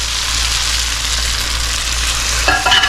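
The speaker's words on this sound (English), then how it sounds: "I'm going to add in our beef broth" Beef broth poured into a hot simmering pan of onions and chicken, a loud continuous sizzle and bubbling hiss with a brief splashing clatter at the very end.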